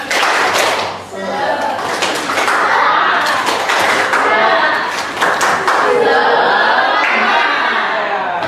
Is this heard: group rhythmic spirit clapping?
yes